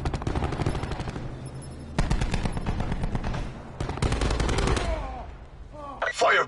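Sustained automatic gunfire in a PS4 shooter, rapid rattling bursts nearly continuous across the span with brief gaps, loud and close, followed by a sharp final blast.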